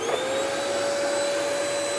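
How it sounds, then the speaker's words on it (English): A Hoover vacuum cleaner runs at full power, a loud, steady motor whine and rushing airflow held throughout with no voices. "And turn on the Hoover."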